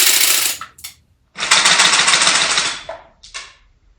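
A wooden, shell-ejecting ROKR toy submachine gun fires on full auto in three bursts of rapid clacking: a short burst, a longer sustained one in the middle, then a brief final burst, each loud and close.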